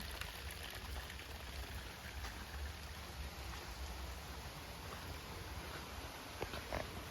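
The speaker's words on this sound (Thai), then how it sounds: "ได้ยินเสียงน้ำตกแล้วนะคะ" A waterfall pours over rocks and tree roots in a forest, making a steady, even rush of water heard from a short distance, fairly soft and without voices.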